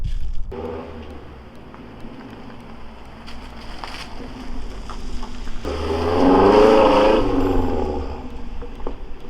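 A Mazdaspeed 3 on Eibach lowering springs drives along, a steady low road rumble and engine hum that swells louder as the car accelerates near the end.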